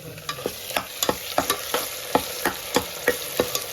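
Chicken roasts with onion and coconut in a pan at a roadside dhaba in Murbad, with steady metallic scraping and stirring strokes about every third of a second over a low sizzle.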